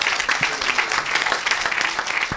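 Audience applause and cheering at an evangelistic world mission gathering, a steady dense wash of clapping and crowd noise filling the whole moment at moderate loudness, with no talk over it.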